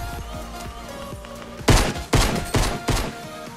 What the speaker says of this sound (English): That's a pistol.